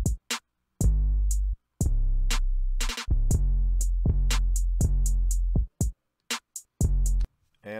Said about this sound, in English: All of your drums together should sound like this.